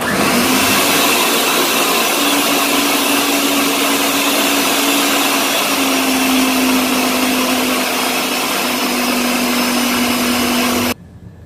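A Ninja blender runs at high speed pulverizing boiled potatoes, a loud continuous motor whine with a steady pitch lasting about eleven seconds before cutting off abruptly.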